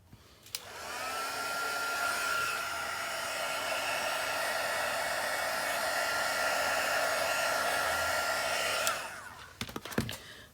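A heat tool blows steadily for about eight seconds, drying distress oxide ink on a card, then clicks off and leaves a few faint handling knocks.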